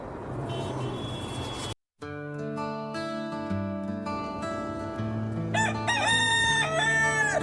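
A rooster crows in a cartoon children's song about a chicken in Saudi dress, the high, drawn-out call rising loud over the musical backing late in the passage after a brief gap.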